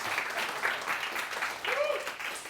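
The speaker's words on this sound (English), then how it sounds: "More claps." Audience applause at a London developer meetup tech talk, a brief, dense burst of clapping from a room, with some voices mixed in.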